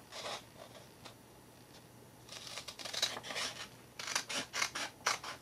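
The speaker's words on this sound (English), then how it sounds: "I just have my scissors handy, so I'm taking my scissors." Close scissors snipping through paper along marked lines for a rustic craft piece, several short crisp cuts and rasping strokes in uneven bursts, quiet and alone, growing denser toward the end.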